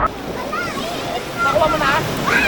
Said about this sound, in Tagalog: Inaantay namin yung alon guys.